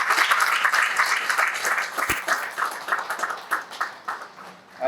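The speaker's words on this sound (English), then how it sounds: "a resounding round of applause to the Salvation Army" An audience at a Salvation Army Christmas Kettle event in Guyana gives a warm round of applause, a sustained crackle of many clapping hands that softens briefly near the end before swelling again.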